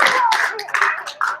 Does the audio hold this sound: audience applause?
yes